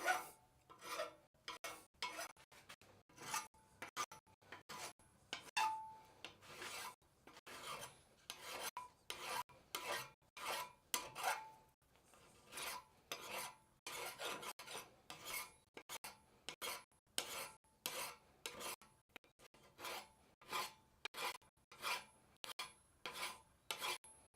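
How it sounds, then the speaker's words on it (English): Hand file rasping across the chamfered edges of a cross peen hammer in a blacksmith shop, a long run of steady, evenly spaced strokes, close and crisp, with no one talking. "I'm going to also chamfer a little bit on the edges."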